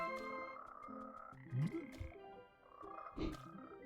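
Frog croaks in the Frogmonster video game, a few loud, throaty calls repeating over a steady layer of game music and ambience.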